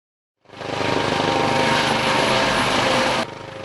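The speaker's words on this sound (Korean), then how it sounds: "어선 침몰 사고 현장에 헬기가 투입됐습니다" A helicopter over the sea off Jeju, deployed in the search after a 3-ton coastal fishing boat sank, roars loudly and steadily with rotor chop, sustained close overhead, then drops somewhat in level near the end.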